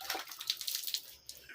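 Water splashes and trickles in quick bursts during wudu-style ritual washing, close and fairly quiet, as water is drawn into the nose and rinsed out over a basin.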